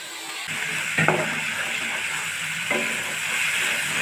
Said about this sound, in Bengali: সে এখানে ডিমের কোরমার জন্য দুধ দিয়ে মশলা কষিয়ে নিচ্ছে।